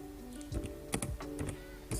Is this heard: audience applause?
no